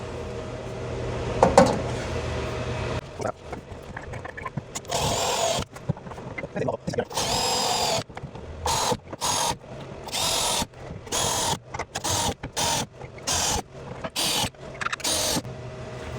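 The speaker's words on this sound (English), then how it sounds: "let's drill this out." A power drill with a spot weld bit cutting out spot welds on a rusted car panel during rust repair: a long grinding run followed by a series of short, loud bursts of whirring and cutting, close up.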